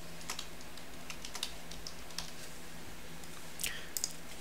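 Keystrokes on a computer keyboard while entering payer details into a tax form, a sparse, uneven run of light clicks close by, with short bursts and pauses and no talking.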